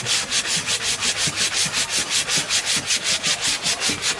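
A wooden bowl under restoration is hand sanded with 150 grit sandpaper in loud, close, rhythmic back-and-forth strokes, about four per second, with nothing else heard.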